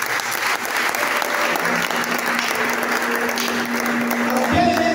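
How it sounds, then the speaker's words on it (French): A church congregation claps and cheers for Jesus in steady, sustained applause that fills the space, with a faint tonal hum running underneath. "Est-ce qu'on peut acclamer pour Jésus?"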